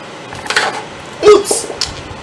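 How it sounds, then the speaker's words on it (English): A kitchen knife chops the ends off cucumbers on a cutting board, giving a few sharp, close taps spaced irregularly over a quiet background. "We're going to take our cucumbers, we can cut off the ends."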